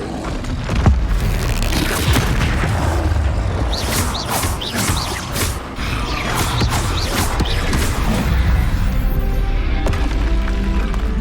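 In the Hogwarts Legacy video game, an Expelliarmus disarming spell is cast during a fight, with swooshes, deep booms and crashing impacts layered over a dense, loud combat soundscape.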